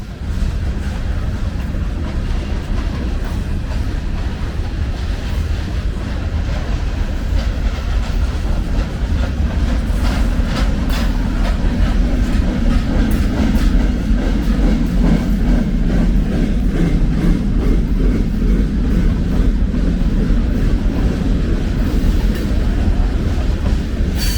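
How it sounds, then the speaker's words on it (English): A long freight train of covered hoppers, tankers, coil cars and empty trash containers rolls steadily past, wheels clicking rhythmically over rail joints beneath a constant heavy rumble. "This train had it all, from covered hoppers, tankers, coil cars, and even a couple of empty trash containers."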